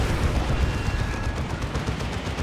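Rocket run strike in the Dawn of War 2 video game, a dense roaring barrage of rapid blasts and explosions with no break.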